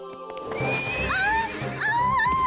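A cartoon horse gives two loud, close, shrill whinnies with wavering pitch, separated by a short gap and backed by other soundtrack sounds.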